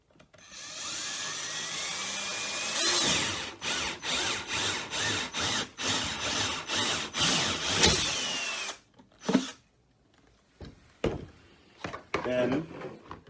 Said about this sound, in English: we're going to take our 2 1/8 drill bit and we're going to drill a hole in the center of